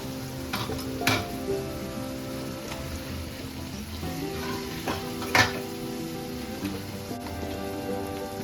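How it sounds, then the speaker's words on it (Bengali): Marinated chicken pieces, yogurt and salt-marinated, dropped into hot masala in a heavy kadai: steady close sizzling and frying with occasional metal clinks and taps of a spoon against the pan, no voices. "এবার আমি এক এক করে চিকেনের পিসগুলো দিয়ে দিই"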